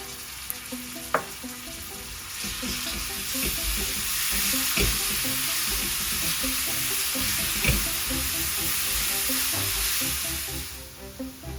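Chopped garlic and chilies fry in a pan for a creamy pasta sauce, giving a steady close sizzle broken by soft scrapes and clinks of stirring, with nobody talking.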